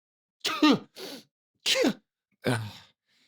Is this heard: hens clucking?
no